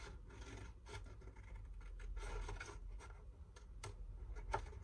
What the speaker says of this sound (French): Je fais ma découpe avec mon ciseau.